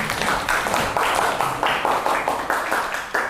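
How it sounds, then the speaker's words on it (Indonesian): Classroom students clapping for group 5, a burst of applause with rhythmic unison claps repeating steadily for several seconds, moderately loud and close. "Kasih tepuk tangan untuk kelompok 5"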